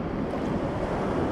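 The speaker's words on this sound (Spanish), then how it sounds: "cuidado con esas olas." Ocean surf at a Puerto Rico beach, a steady broadband wash of breaking waves with wind buffeting the microphone, loud and continuous throughout with no voices.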